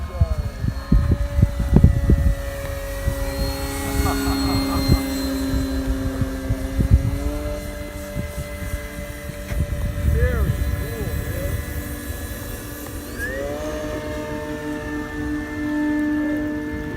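Radio-controlled Carbon Z Cessna 150 float planes flying over Lake Hemet, California, their propeller engines droning steadily with shifting pitch as they pass, while people talk nearby throughout.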